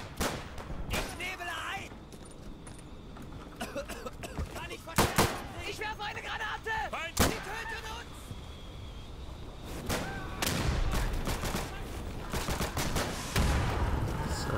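Gunfire in the World War II shooter game Day of Infamy, sharp shots cracking in scattered bursts and volleys over a constant battle din, some close and loud, others farther off.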